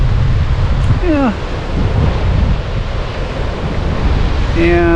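Wind-driven sea waves wash against a harbor seawall in Maine under an east wind, a steady loud roar of surf and wind buffeting the microphone throughout, with brief tonal squeals rising over it.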